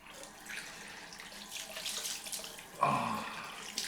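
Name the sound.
cold tap water splashed on the face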